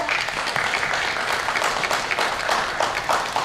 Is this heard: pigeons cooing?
no